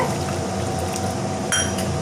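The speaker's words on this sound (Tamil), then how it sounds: "ஒரு ஒரு டம்ளர் தண்ணி சேர்த்திக்கலாங்க" Water pours into a sizzling pot of chicken gravy with garam masala, a dense splashing hiss with a clink of metal near the end.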